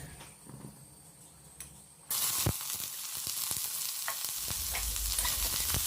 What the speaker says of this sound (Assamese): এতিয়া কেৰাহীখনত অকণমান মিঠাতেল দিম বহুত বেছিও নিদিওঁ অলপমান দিম যাতে পিঁয়াজখিনি ফ্ৰাই কৰিব পাৰোঁ